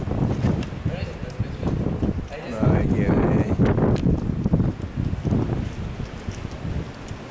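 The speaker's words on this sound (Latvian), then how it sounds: "Baigais vējš tur augšā" Strong wind blowing on a hotel rooftop in Warsaw, with steady, gusty buffeting that rises in the middle, under people talking.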